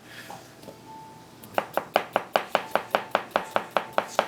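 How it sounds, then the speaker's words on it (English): Knife chopping food on a cutting board while making Greek pan-fried meatballs: about fourteen crisp, evenly spaced chops in a steady rhythm, close and clear, after a quiet start with a faint tone. "when we're chopping or slicing with our knife, we angle the knife out just a bit"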